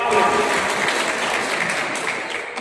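Seminar audience applauding steadily at an Urdu-promotion gathering, a dense, even wash of many hands clapping close by for the full stretch, with a faint voice mixed in.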